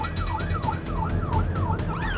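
An ambulance siren wailing in a rapid, regular up-and-down sweep, loud and close, over road rumble while responding to a two-vehicle road traffic crash at Meadow Hall, Sheffield.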